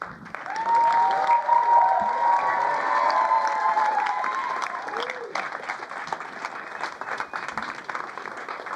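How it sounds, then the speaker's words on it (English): An auditorium audience at a live event applauds and cheers, with whistles and shouts rising over loud, sustained clapping that gradually thins toward the end. "Let's keep that applause going a little longer for Hip Hop Caucus."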